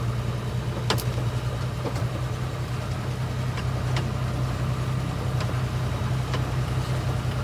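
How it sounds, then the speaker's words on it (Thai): A tractor grades a muddy dirt access road into an earth pit after rain near Korat, Thailand, giving a steady low engine rumble throughout with a few faint clicks on top. "นี่ครับมีรถไถทำทางครับ"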